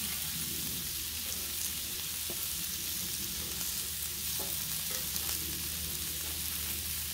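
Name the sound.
pierogis and carrots frying and being flipped on a Blackstone griddle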